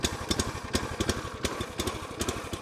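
A petrol engine on a Venom 22-ton road-towable log splitter idles with a steady, rhythmic chugging putter, close and moderately loud, with no talking.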